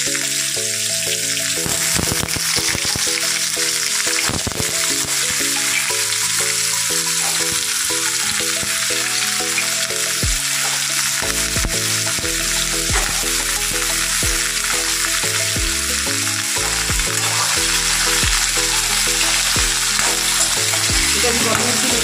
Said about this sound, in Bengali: আমি আলুগুলো দিয়ে দিচ্ছি।